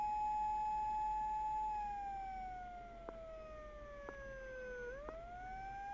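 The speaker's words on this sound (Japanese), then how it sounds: "なんでサイレン鳴ってんの。" A police siren wails steadily in the horror video game Tsugunohi, a clear electronic tone that holds and then dips and rises, fairly faint and alone with a few soft clicks.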